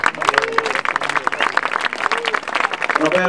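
Audience applause at a tango festival in Catania, a dense wash of clapping from a crowd with voices mixed in, steady and loud across the whole stretch.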